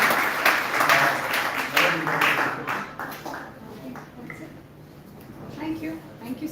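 An audience applauds a panel at the end of a question and answer session, a moderate burst of clapping that fades out over the first few seconds while a voice speaks over it.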